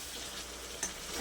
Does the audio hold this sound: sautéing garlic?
yes